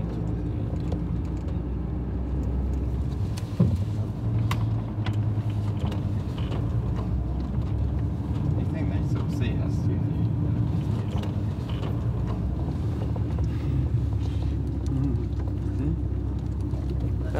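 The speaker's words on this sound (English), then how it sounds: "We are in the van, yeah." Interior of a moving van, a steady low engine and road rumble filling the whole stretch at constant loudness, with occasional small creaks and rattles from the cabin and no talk.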